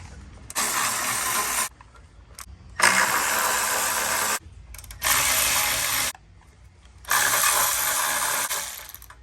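A ratchet loosens 13 mm bolts on a BMW G80 M3 midpipe in four separate bursts of rapid, close clicking, each lasting about one to two seconds, with short pauses between them.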